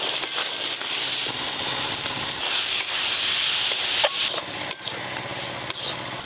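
Peas being stirred into fried masala in a pan, with a steady broad sizzling hiss and occasional scraping knocks from the spoon, close and continuous without any voices.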